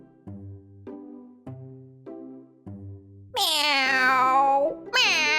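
A cat's meow rings out twice, loud and close, after a short run of rhythmic tonal plucks in a children's story.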